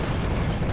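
A tank blowing up in the video game Heroes & Generals: one short, loud, close blast of dense rumbling noise that fills the whole moment.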